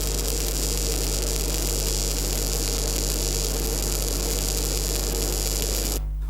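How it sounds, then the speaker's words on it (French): A stick electrode arc welds along a bevelled joint with a steady, close, buzzing crackle and electrical hum, then cuts out abruptly near the end. "On coupe l'arc sur un bord, et on réamorce de l'autre."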